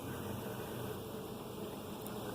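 Honey bees from a captured swarm hum steadily as they settle onto two small frames outdoors, a soft continuous buzzing drone with no voices.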